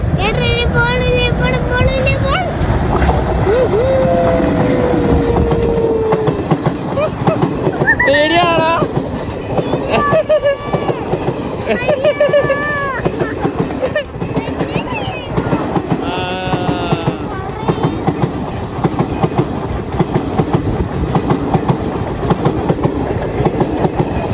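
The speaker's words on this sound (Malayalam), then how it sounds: "ഇതിലേക്കൂടി ഒരു ട്രെയിൻ വരുന്നു ഇതേ പോകണം ട്രെയിൻ" Train passing close by near Vyttila, Kaniyampuzha, with loud continuous rumble, rhythmic clickety-clack of the wagons and whistle or squeal tones, while people talk nearby.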